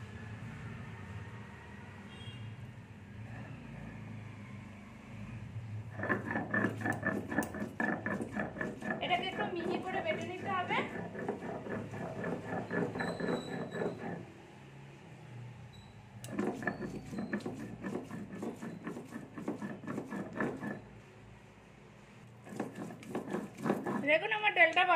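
Soaked khesari lentils are ground, making rough whirring, grinding bursts. Two long runs start and stop, with voices talking between them.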